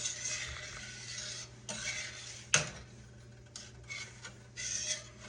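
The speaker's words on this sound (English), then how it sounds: "I'm going to stand here and stir it a minute till it gets good hot" Whole milk with basil is stirred in a pot on the stove, giving faint, sparse scrapes and a few light clinks of the spoon against the pot in an otherwise quiet kitchen.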